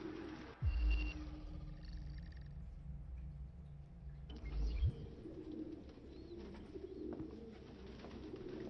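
Pigeons coo softly and repeatedly in a nest room in the video game Detroit: Become Human, over a steady low hum, with occasional chirps and faint wing flutters nearby.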